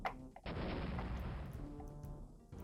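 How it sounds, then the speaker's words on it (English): A video game explosion erupts as a single heavy, rumbling boom that sustains for about two seconds before cutting off, loud and close, with no talk. "It's a nice explosion sound, but still."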